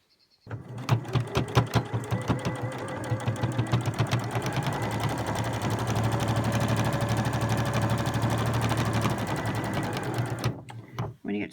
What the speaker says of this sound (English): with a straight stitch on the machine, I'm literally just going to stitch down there